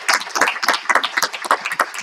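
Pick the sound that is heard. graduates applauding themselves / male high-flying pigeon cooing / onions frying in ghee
graduates applauding themselves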